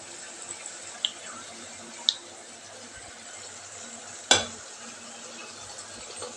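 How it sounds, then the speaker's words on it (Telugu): A spoon stirs food in a cooking pan during Andhra-style veg biryani and chicken curry preparation, with soft continuous scraping and faint sizzling, broken by a few sharp clinks of utensil against the pan. "కోసేపు బాగా కలుపుకోవాలి."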